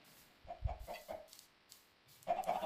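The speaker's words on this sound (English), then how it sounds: "Let's check on the chickens" Chickens cluck in the Minecraft video game, a few short soft clucks in a quick run followed by a brief squawk near the end, quiet and alone with no talk.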